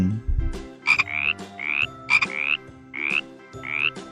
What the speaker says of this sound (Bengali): ব্যাঙ।